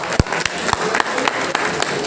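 Scattered, uneven claps from an audience at a Brahmin community honours ceremony in Navi Mumbai, a few sharp hand strikes popping out over a steady murmur of room noise.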